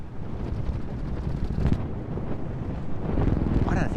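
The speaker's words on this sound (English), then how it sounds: "it's just a shame it's so windy" Strong wind buffets the microphone outdoors during a landscape photography outing, a loud continuous rumbling roar that swells slightly toward the end, with faint talking underneath.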